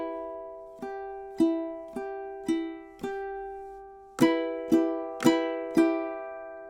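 Ukulele strummed in a pattern with ghost-note muted strokes: eight sharp percussive strums, the first five evenly spaced and slightly softer, then four louder ones in quicker succession, each ringing briefly, played alone.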